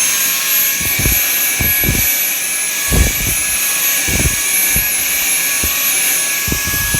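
A Dyson V6 cordless vacuum cleaner runs on max power with a loud, steady high-pitched whine, and short low thumps and knocks from handling break in at intervals.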